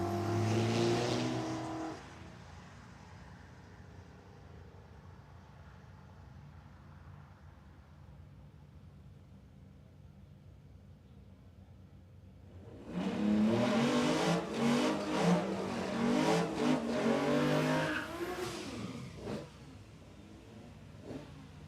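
Drag racing cars at an Aussie eighth-mile meet, a VH Commodore and a Rodeo diesel, idle rumbling at first, then launching and accelerating hard with loud revving engine noise for several seconds.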